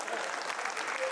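An audience claps steadily and densely throughout, a continuous patter of many hands, with no talk over it.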